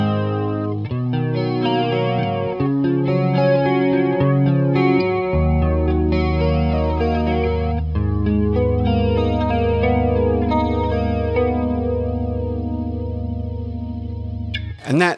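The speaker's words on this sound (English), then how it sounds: "it creates this sort of metallic swooshing sound that chorus pedals can't do." An electric guitar plays through a Pastfx Elastic Mattress flanger pedal, sustained chords washed in a metallic, sweeping swoosh that rises and falls over the notes.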